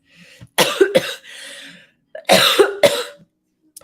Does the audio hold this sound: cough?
yes